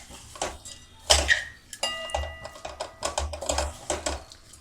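Raw mango and jaggery being stirred in a pan, with a spoon scraping and clinking against the metal in an irregular rhythm of sharp taps and rattles, close and clear, with no voices.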